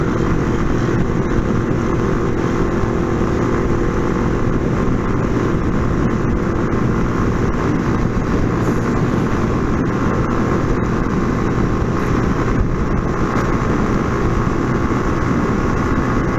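A small Honda motorcycle cruising on a São Paulo highway, with a constant loud roar of engine and wind buffeting that stays steady and close the whole time.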